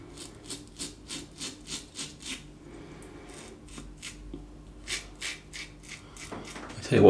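Yates 921-M safety razor cutting through facial stubble, a close, rhythmic scraping with short regular strokes, a pause midway, then more strokes.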